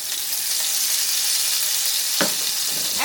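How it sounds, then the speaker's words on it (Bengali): Taro leaves, folded and laid in hot oil two at a time, fry with a steady, loud broadband sizzle, broken near the end by a couple of brief thuds and clatters as pieces are placed. "সেই সাইডটা আগে আমি তেলের মধ্যে দিচ্ছি দুটো করে ভেজে নিচ্ছি আমি"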